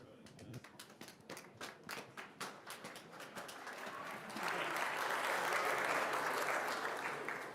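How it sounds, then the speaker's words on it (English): A conference audience at the Munich Security Conference bursts into applause, starting as scattered separate claps that build into a dense, steady ovation, moderately distant. "Thank you very much for that rousing applause"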